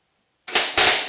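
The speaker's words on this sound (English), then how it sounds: "we're going to use a little power tool here and see if we can get these bolts out of here" A power tool, likely an impact wrench, bursts to life on a 3/4 inch bolt during thrust bearing installation, two sharp loud rattling hits in quick succession after a short silence.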